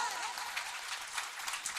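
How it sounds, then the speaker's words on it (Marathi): An audience at a kirtan gathering claps briefly for a women's bhajan group, a soft, dense patter of applause heard from a distance. "एकदा जोरदार टाळ्या झाल्या पाहिजे त्यांच्यासाठी जोरदार टाळ्या"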